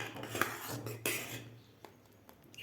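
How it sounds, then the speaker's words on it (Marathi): Metal spoon scraping and clinking against a pot while stirring thickening green pea kadhi on the stove, a few sharp close knocks and scrapes between quieter pauses. "आपल्याला आणखीन 2 ते 3 मिनिट कढीला शिजवून घ्यायचं आहे एकसारखं हलवत."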